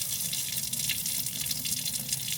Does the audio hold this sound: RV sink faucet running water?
yes